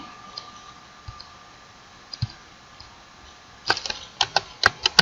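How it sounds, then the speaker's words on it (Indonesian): Code being typed on a computer keyboard: a few scattered, faint key taps at first, then a quick run of crisp, close clicks near the end in an otherwise quiet room. "Kita ketik kode di sini"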